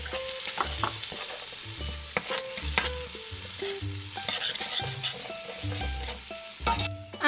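Onions, garlic, ginger, salt and spices are stirred in a pot, with a spoon scraping and clanking in repeated strokes over a soft sizzle, close and fairly loud, with no talking.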